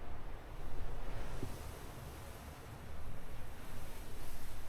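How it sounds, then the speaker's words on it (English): Strong wind gusting outside a wooden-roofed shelter on the British coast, a broad rushing roar that swells and eases in waves, buffeting close by with no talk. "It's that kind of wind that gets right down in your ears, makes your ears hurt."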